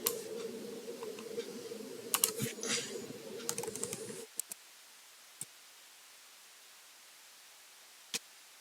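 Rapid clicking of keys as PHP code is typed on a computer keyboard, a busy burst of keystrokes for about four seconds, then near silence broken by a few isolated clicks.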